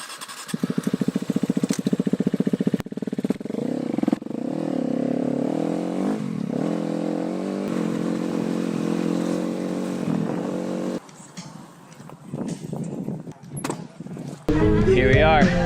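Enduro dirt bike being ridden in the Moab desert, engine droning and revving up close, with wind buffeting, shifting pitch and a cut-out partway through, while a person talks over it.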